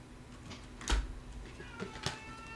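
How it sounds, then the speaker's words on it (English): A cat meows to be let in, two short, fairly faint cries in a quiet room, the second with a clearer tonal whine. "Sorry, you hear the cat wants in."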